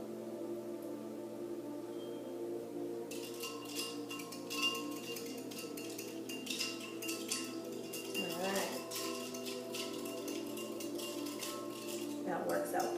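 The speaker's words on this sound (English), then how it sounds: "Now mix it up a little bit, let those ice cubes melt for a second." A spoon clinks and scrapes against a glass or pot while sugar water is stirred with ice cubes for hummingbird nectar, a steady close jingle of rattling ice that runs throughout.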